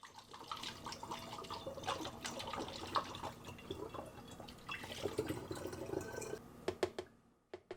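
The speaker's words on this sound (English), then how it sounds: "I'm pouring it into the storage bottle" C-41 film developer chemical mixture poured into a storage bottle, a soft trickling liquid stream with small splashes and drips, faint and close, ending with a few isolated drops.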